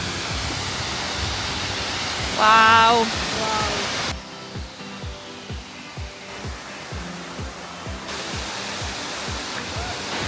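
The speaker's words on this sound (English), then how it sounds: "And here's a waterfall." Hidden waterfall near Ubud, Bali, pouring as a steady broadband rush, strong at first and then quieter and more distant, with a voice exclaiming briefly and a repeated rhythmic thumping running under it.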